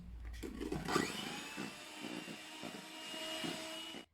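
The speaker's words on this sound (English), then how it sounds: "now I'm just going to whisk it so it's all combined" Whisk beating strained infused cream into egg and sugar in a bowl for lemon balm ice cream, with a series of quiet, uneven scraping strokes and no voices.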